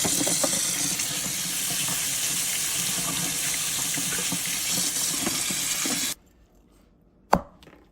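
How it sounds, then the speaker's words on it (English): Cold tap water runs steadily into a sink over lobster pieces for about six seconds, then shuts off, followed by a single sharp clunk in the quiet. "Give the lobster pieces a quick rinse under cold water."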